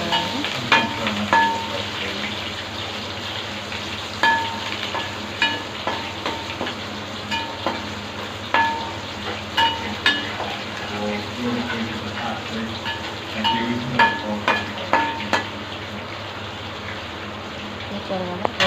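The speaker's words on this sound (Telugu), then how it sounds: "వేగిన తర్వాత టమాటా ముక్కలు అక్కడ వేసుకొని వాటిని బాగా వేగేలాగా" Tomato pieces fry in a pan for a village-style fish curry, giving a steady low sizzle broken by light, irregular stirring taps and clicks.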